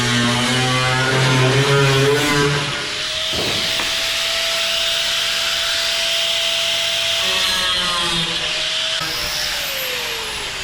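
Grinding on a rear body panel of a 1967 Chevelle, a harsh loud abrasive hiss with a tool motor whine that shifts pitch, running continuously and close, with no talking.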